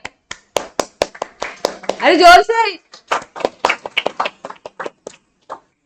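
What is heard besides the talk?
students clapping in class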